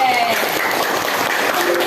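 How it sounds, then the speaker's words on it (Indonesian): Loud, close applause from a group claps continuously throughout, with faint voices mixed underneath. "tepuk tangan untuk Silen."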